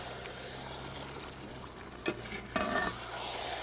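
Egg tikka masala curry with kasuri methi being stirred in a pan, with a low simmering background and two short bursts of spoon scraping near the end.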